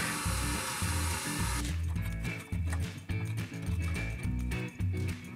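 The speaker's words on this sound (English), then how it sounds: "Now I will just drill and tap it." A power drill boring and tapping a hole in a metal rod with a 3/16 inch bit, a loud grinding drone broken into rhythmic pulsing bursts with brief pauses, close up and without talking.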